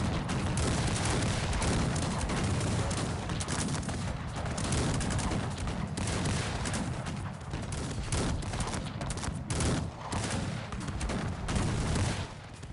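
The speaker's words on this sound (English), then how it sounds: "That's a shit ton of cannons" Massed cannon and musket fire from a large battle in the real-time strategy game Cossacks 3, a dense, continuous roar of overlapping booms and crackling volleys that stays loud throughout with no pauses.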